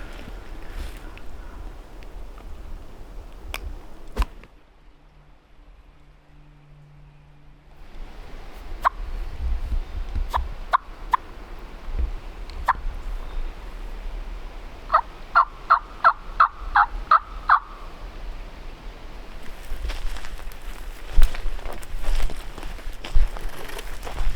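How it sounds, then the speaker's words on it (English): A wild turkey on a South Carolina ridge gobbles in short rattling bursts, faint and distant, amid woodland ambience and scattered clicks and knocks, with no voices. "The turkey, he just gobbled again"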